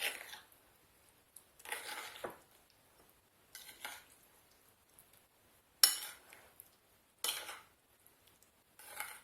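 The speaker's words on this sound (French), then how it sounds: "Et maintenant on mélange bien l'ensemble." A utensil stirs apple filling for a galette des rois in a bowl, giving repeated scraping and clinking strokes that come in short bursts separated by brief pauses, close and fairly quiet.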